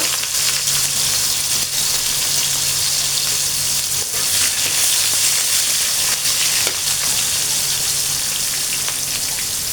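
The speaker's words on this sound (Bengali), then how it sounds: "আলুগুলো আমি হালকা একটু লবণ আগে ভেজে নিব" Potatoes frying in hot oil with cumin seeds, a loud continuous sizzle with bubbling crackle filling the whole stretch, close up and unbroken.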